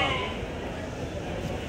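Sheep bleat amid the crowd at the Saturday sheep market in Angallu, with overlapping voices and busy market chatter around them.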